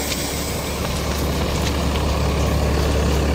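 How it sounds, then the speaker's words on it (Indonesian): A bus engine runs with a steady, loud low drone and broad rumbling road noise throughout, heard from inside the vehicle with no talk. "Suara mesinnya sih kedengaran suara mesin yang kerawat ya teman-teman."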